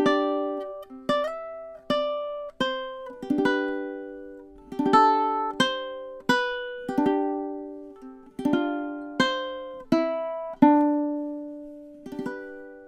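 Ukulele picking a stanza of a song with the thumb, a steady sequence of distinct plucked notes ringing and decaying one after another, close and alone without speech.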